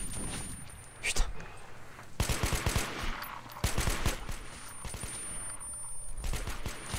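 Bursts of automatic gunfire from the video game Metro: Last Light Redux, heavy rapid clusters of shots with someone talking over them in French.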